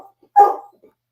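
An excited dog gives one loud, sharp bark close by indoors, standing out against an otherwise quiet room.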